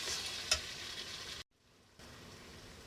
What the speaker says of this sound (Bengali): এবার আমি খাসির মাংসটা ভালো করে কষে নেব।